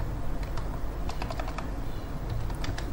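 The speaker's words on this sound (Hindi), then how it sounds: "मैं यहाँ टाइप कर देता हूँ" Typing on a computer keyboard while editing text in Canva, with scattered soft key clicks over steady low background hum and no talking.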